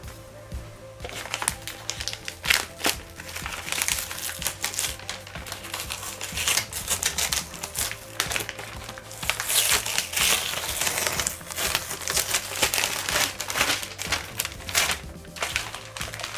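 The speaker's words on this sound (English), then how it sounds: "So I'm going to take the paper off the mirror and see how that turned out." Masking paper peeled and crumpled off a freshly spray-painted mirror, with irregular crinkling, tearing and rustling bursts close by that keep going without pause.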